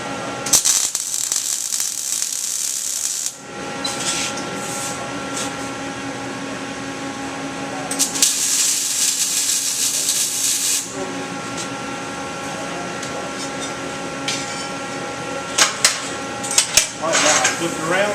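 Tack welds laid on a steel test plate: two long bursts of loud, steady crackling hiss, each lasting a few seconds, separated by quieter shop noise, with brief sharp sputters near the end.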